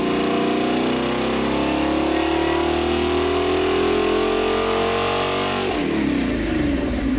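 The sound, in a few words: rebuilt Pontiac 326 stroker engine revving on a dyno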